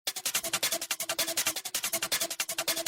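Dense, gritty percussive hits repeat in a fast, driving rhythm, with noisy crunchy texture layered like a distorted snare and shaker.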